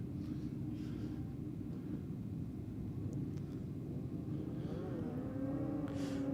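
Motorcycles launching off the line at a drag strip bike night, a continuous low roaring engine rumble at a distance that rises with a climbing whine toward the end.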